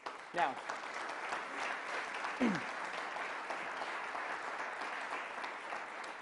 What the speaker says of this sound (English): They all deserve a round of applause for their work.